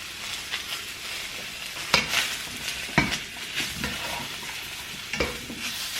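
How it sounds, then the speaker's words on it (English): Mushrooms sizzle in oil with salt and pepper while a spatula pushes them around, a soft continuous frying hiss broken by a few sharp scrapes and clacks against the pan. "Spatula, going to move these around a bit, coat them in the oil."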